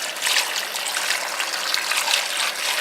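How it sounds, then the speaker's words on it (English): Water pours steadily into a crock pot for a bunny stew, a close, continuous trickling stream with no voices. "Now I'm just going to add water to it."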